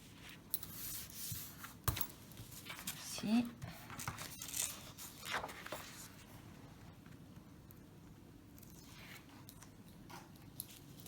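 Double-sided tape and paper handled close up for a Christmas mini album: soft peeling, tearing and crinkling sounds, intermittent and quiet, with occasional light taps.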